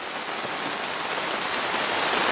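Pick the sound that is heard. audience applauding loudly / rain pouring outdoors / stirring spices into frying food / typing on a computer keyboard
rain pouring outdoors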